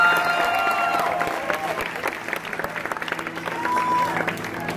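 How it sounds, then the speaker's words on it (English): A crowd at a live gospel concert in Austin, Texas applauds loudly, the dense clapping thinning into scattered claps midway and then swelling again, with cheering voices mixed in. "Come on, clap your hands for him tonight."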